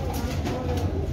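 Flying-breed pigeons in a loft at Jhelum give low, steady coos beneath a dense wash of background noise, with a faint murmur of voices.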